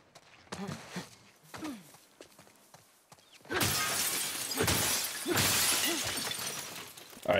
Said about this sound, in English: All right, that's enough breaking glass.